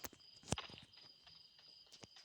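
Footsteps in the battle royale game PUBG, a few quiet soft steps with one sharper thump near the start, faint and low in the mix with no talking over them.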